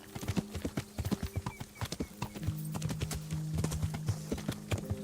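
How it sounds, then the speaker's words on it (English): Horse hooves gallop across open countryside in the medieval game Kingdom Come: Deliverance, a steady fast clip-clop rhythm up close with an occasional snort, a low tonal hum running beneath. "It's just jumping on the horse and exploring the world."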